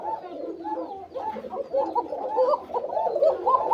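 Thin-voiced koka pigeons on a farm coo continuously and close by, several birds overlapping in soft, rolling, throaty calls with no pauses.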